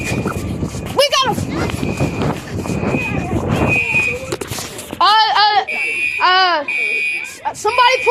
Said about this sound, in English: somebody pulled the fire alarm over there.